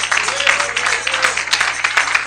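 A church congregation claps in praise, a loud, continuous round of applause with a faint voice or tone rising briefly beneath it.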